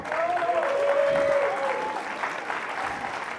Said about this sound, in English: Applause for Pablo.